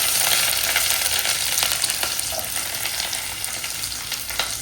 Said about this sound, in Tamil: வெங்காயமும் கருவேப்பிலையும் சேர்த்துட்டு நல்லா வதக்கி வச்சுக்கலாம்.